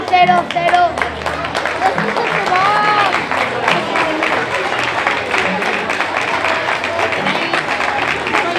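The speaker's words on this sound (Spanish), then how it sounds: "Vamos ese aplauso muy fuerte." Loud audience applause and some cheering at a carnival costume contest as prize winners are announced, dense clapping with voices mixed in throughout.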